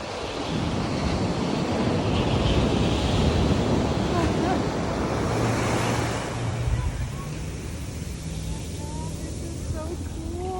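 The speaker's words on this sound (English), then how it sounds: "That is the ocean. Beautiful, beautiful ocean." Ocean waves break and wash continuously onto a cold beach, with steady broadband surf roar and wind buffeting the microphone, and faint tonal sounds near the end.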